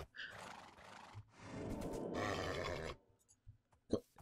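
A horse in Minecraft whinnies through a short, strained burst, followed by a longer rough neigh and then a few brief snorts and clops, faint against a quiet game backdrop.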